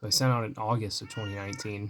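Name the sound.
cat meowing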